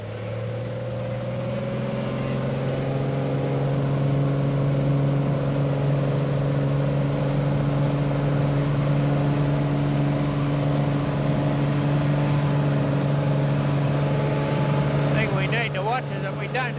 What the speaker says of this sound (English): we'll just let the aircraft leave the ground